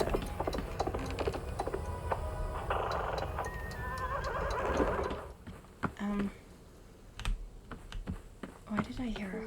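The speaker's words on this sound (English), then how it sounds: "Why did I hear a horse?" A brief horse neigh sound effect from the cozy video game Wanderstop rises in the middle, surrounded by steady keyboard typing and clicking, with a voice talking at the start.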